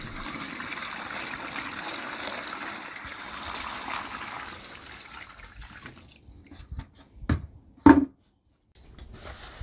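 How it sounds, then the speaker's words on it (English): Water pours and trickles steadily onto coco coir bricks, then thins into scattered drips and a few splashy bumps before a short silence. "The coco bricks expand when you pour water on them."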